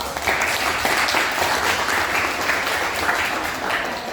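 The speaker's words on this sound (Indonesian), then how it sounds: "Kita beri aplaus dulu." A university class applauds group 4 after their presentation, a lively burst of clapping from many hands that swells and holds for several seconds before cutting off.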